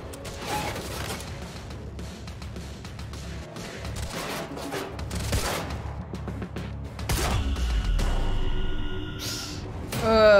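Rapid bursts of gunfire and mechanical clatter in the video game Quantum Break, dense and continuous, with a sharp louder burst near the end; voices speak briefly amid the shooting.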